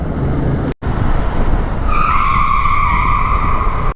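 Tires skid and squeal under hard braking on a long highway ride between Kashmir and Meerut, a loud sustained screech over engine rumble, close by.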